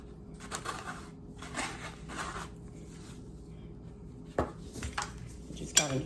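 Graham cracker crumbs with brown sugar and melted butter tossed in a bowl, giving soft scraping and stirring rustles with a few light clinks of a utensil against the bowl, close and quiet.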